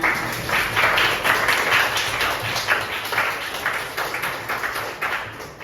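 A school audience at a vocational high school session gives a round of applause, a dense, steady wash of many hands clapping in a hall, sustained for several seconds with no speech over it.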